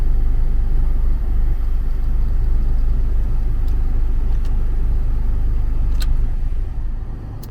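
A 1997 Honda Orthia with a B18B engine and manual gearbox runs after a battery jump-start, producing a steady, loud, close rumble with a few faint clicks, fading slightly at the end, with no speech.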